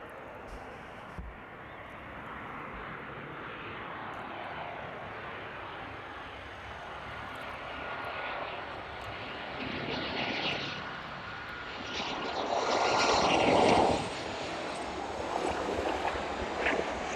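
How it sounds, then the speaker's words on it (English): A Ryanair airliner landing at East Midlands Airport, a steady distant jet roar that swells to a louder rush near the end as it flares and passes, with no talk over it. "We have an extended flare from the Ryanair there."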